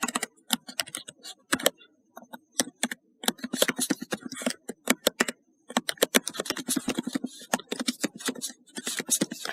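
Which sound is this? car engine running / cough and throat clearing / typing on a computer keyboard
typing on a computer keyboard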